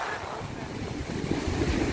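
Sea waves wash onto the shore at Jubail during a high tide, a steady broadband rush of surf with wind noise over the microphone, continuous and fairly loud throughout.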